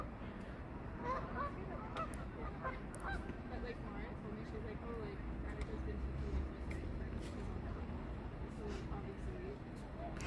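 Geese honk in a steady outdoor chorus of overlapping calls, with a duck somewhere among the flock, continuous and moderately near across the whole stretch.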